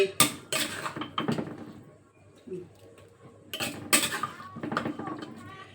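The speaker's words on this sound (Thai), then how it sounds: "เราก็มาตักใส่จานกันค่ะ" A spoon scoops purple-bean salad from a pot or bowl onto plates, with sharp clinks and scrapes of utensils against dishes in two busy bursts separated by a quieter pause, close and clear.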